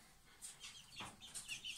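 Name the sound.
young rooster chick clucking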